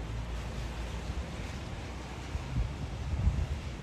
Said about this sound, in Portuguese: um temporal vento forte que está hoje aqui na Suíça